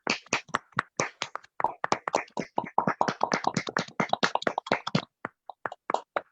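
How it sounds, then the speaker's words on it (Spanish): Audience applause at a political talk, an irregular patter of clapping hands from a modest crowd, close and fairly loud, thinning out toward the end. "un aplauso primero"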